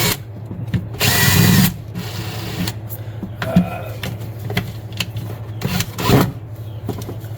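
A power drill with a step bit bores a hole through a plastic panel near a lithium battery display, giving loud whirring bursts with a harsh cutting rasp, then shorter pulses of drilling.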